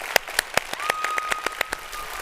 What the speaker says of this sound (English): So I'm gonna ask you to do the collective organizers clap with me.